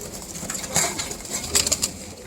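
Pigeons in a loft of mostly cock birds cooing softly, several short bursts spread across the moment with faint rustling in between and no talk.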